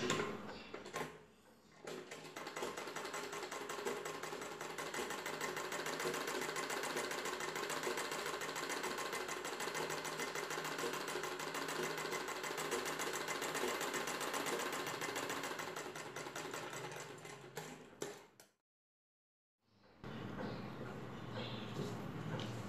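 A sewing machine stitches a blouse piece, running in a steady loud rattling whir for most of the stretch, stopping briefly near the end, then starting up again.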